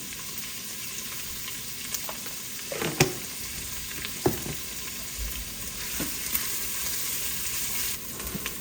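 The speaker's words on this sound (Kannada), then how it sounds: "ಈರುಳ್ಳಿ ಒಂದು ಸ್ವಲ್ಪ ಬೇಗ ರೋಸ್ಟ್ ಆಗಲಿ ಅಂತ ಅಂದ್ಬಿಟ್ಟು ಉಪ್ಪು ಹಾಕ್ಕೊತಿದ್ದೀನಿ" Onions frying in a pan with a little salt added, a steady soft sizzle under scattered stirring scrapes and taps, fairly close, with no talking.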